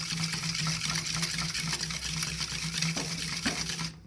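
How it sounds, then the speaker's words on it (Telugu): Sugar, oil and essence being whisked for cake batter, giving a quick rhythmic whisking and scraping against a bowl, faint and steady with a low hum underneath. "ఇలా బాగా ఒకసారి విస్క్ చేసుకుంటే షుగర్ అంతా, ఆయిల్, షుగరు, ఎసెన్స్ అంతా కలిసిపోతుంది"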